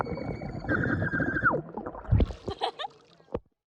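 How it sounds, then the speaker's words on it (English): A person screams underwater, producing a muffled, gurgling wail with a sustained tone that bends downward, followed by bubbly splashes and a final sharp knock. "That was the sound of me screaming underwater."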